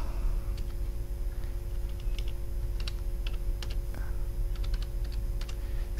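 Someone types a command on a computer keyboard while configuring a Cisco router, a series of quick, close key clicks in short bursts over a steady low hum.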